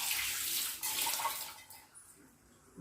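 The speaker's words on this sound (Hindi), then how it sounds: "थोड़ा ही पानी ऐड करूँगी इसमें" Water poured in a small amount into curd chicken cooking without oil in a pan, a steady splashing pour that tapers off within a few seconds, close and alone.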